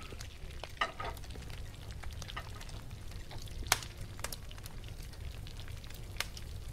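Sliced potato fries frying in hot oil, a steady close sizzle with scattered sharp pops and crackles throughout.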